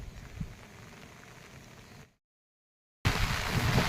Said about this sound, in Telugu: వర్షం అయితే నైట్ ఏడతెరిపి లేకుండా అసలు ఒక్క నిమిషం కూడా ఆగకుండా అయితే ఫుల్ వాన పడుతుంది